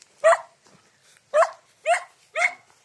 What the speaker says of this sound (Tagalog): Ang bait ng mga aso.